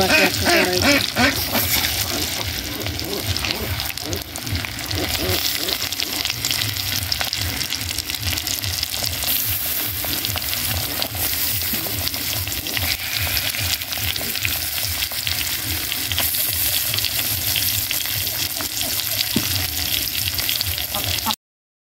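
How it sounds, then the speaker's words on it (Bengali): Fish frying in hot salted oil in a kadai-style wok, a loud, steady crackling sizzle with bursts of spattering that runs unbroken throughout, no talking over it. "কড়ার তেলটা একটু রাখিয়ে নিলাম, একটু লবণ ছিটিয়ে দিয়ে। এবার আমরা মাছগুলো ছেড়ে দিব"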